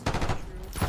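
Rapid gunfire in a video game, a loud, close burst of overlapping shots followed by a second blast near the end.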